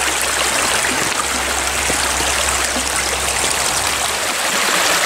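A stream in a California petrified forest flows below high rocks, giving a steady, full rushing and trickling wash with no pauses, heard alone from nearby.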